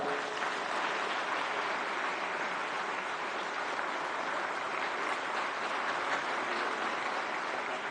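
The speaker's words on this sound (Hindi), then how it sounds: "जोरदार तालियां एक बार।" Loud, sustained applause from a large audience at a formal Indian commemorative event for Pandit Madan Mohan Malviya's birth anniversary, dense and steady throughout without pause.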